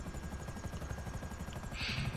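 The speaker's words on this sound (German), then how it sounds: "Ich gehe den Heli holen." Helicopter in GTA V Online, its rotor giving a steady rhythmic thumping with an even, continuous drone, heard in-game at moderate distance with no talk.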